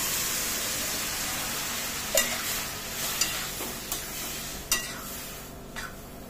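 Spices and vegetables fry in a hot pan for a masoor dal with bottle gourd greens, giving a steady close sizzle broken by several sharp spoon scrapes as the mixture is stirred, with no voices.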